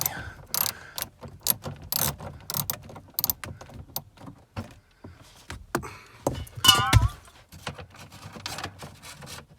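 Small rusty nut and washer being unscrewed while removing the binnacle of a DeLorean DMC-12, heard as sparse close clicks, ratchet-like ticks and light metallic knocks.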